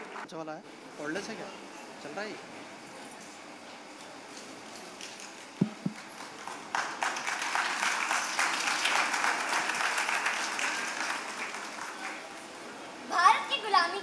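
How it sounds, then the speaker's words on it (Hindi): An audience at a children's summer workshop play applauds the young performers waiting backstage. Scattered sounds and voices come first, then the clapping swells into a sustained wash that holds for several seconds. "आप जोरदार तालियों से उन बच्चों का हौसला बढ़ाइए"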